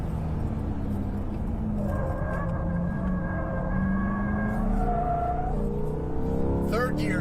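A GM car's engine revs under acceleration in third gear around 3,500 RPM, a steady rising drone with tyre and road noise, heard from inside the car beneath talk.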